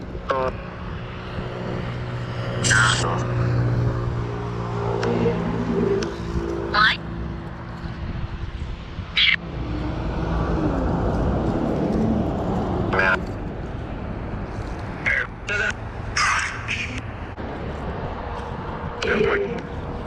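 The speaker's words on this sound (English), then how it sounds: "there's lots of really loud traffic happening." Loud passing vehicles roar steadily outdoors during a nighttime session at a historic site, with swelling engine rumble and whooshes running beneath intermittent speech and sharp clicks.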